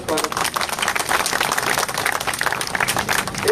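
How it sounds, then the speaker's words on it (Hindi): A crowd at a street protest rally over a weekly market gives a guest a dense, loud round of applause. The clapping is continuous and close, with voices mixed into it. "जोरदार तालियों से इनका स्वागत।"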